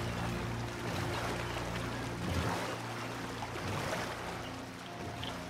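A boat moves over water in Red Dead Redemption 2 online. A continuous, fairly loud wash of churning water runs through the whole stretch, with soft splashing swells and an underlying engine-like drone.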